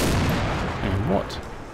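An artillery strike in Combat Mission: Black Sea lands as a single muffled, rumbling boom that rolls out and fades over under two seconds.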